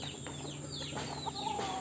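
Hens cluck softly and sporadically at a distance in a backyard flock in the Philippines, with a faint crow-like call near the end over low ambient noise.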